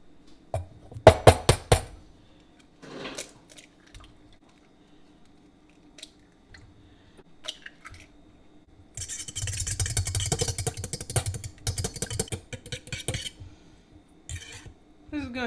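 Three eggs beaten with a fork in a mixing bowl, a fast run of clicking, scraping strokes for several seconds after scattered clinks of utensils and glass, close and fairly loud.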